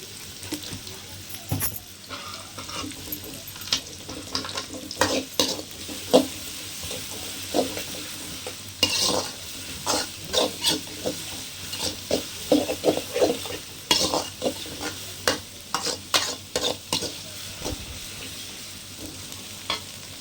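Four chopped medium onions fry in hot oil for a quail pepper gravy, sizzling steadily while a spoon repeatedly scrapes and stirs the pan in close, uneven strokes.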